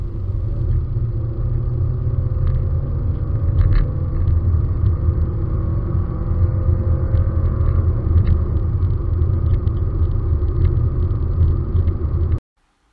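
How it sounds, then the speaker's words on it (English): A small Alfa Romeo MiTo engine drones steadily with a deep rumble and road noise, rising gently in pitch as it accelerates, then cuts off abruptly near the end. "If you want to hear what the Mito sounds like under acceleration"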